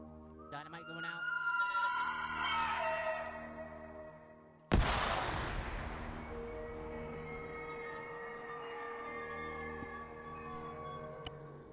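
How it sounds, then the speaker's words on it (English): Dynamite detonates in a military video game. After a stretch of droning background sound, one sudden loud blast hits and leaves a long rumbling decay that slowly fades. "Last dynamite going out."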